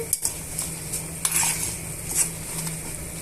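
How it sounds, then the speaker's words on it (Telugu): Okra chutney ingredients frying in a pan with utensil scraping and stirring, a steady low sizzle underneath with a few sharp clinks, close and alone without talk. "ఇలా అన్నీ కూడా వన్ మినిట్ వేగనిద్దామండి"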